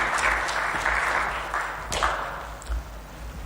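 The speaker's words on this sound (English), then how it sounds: "please a round of applause for His Excellency" Audience applause for Kenyan President William Ruto at a formal human rights event, a steady wash of clapping from a large crowd with a few sharper claps standing out.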